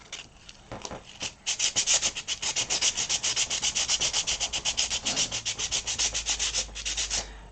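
Sandpaper worked by hand over a hardened epoxy art-toy sculpt, making a quick, even run of rasping back-and-forth strokes close up, with no voices.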